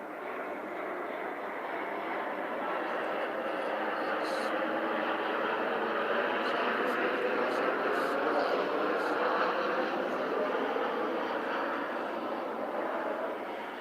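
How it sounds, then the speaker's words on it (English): A loud jumbo jet flies overhead on approach to an airport at night, a broad roaring engine rumble that swells and holds steady for several seconds outdoors. "Big jumbo plane. Yo. Loud too. Going to the airport."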